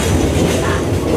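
Passenger train on the way to Princep Ghat, running on rails with a loud, steady rumble and clatter that fills the whole short moment.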